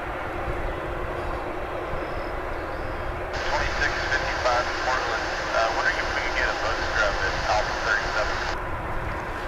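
A Boeing 747 or Dreamliner airliner at DFW airport rumbles in the distance, then a broad jet roar swells for several seconds before easing off, with a voice talking underneath.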